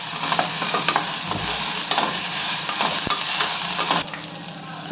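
Tomatoes sautéing in a pan with ginger garlic paste and salt, a steady loud sizzle broken by the scrape and clink of stirring.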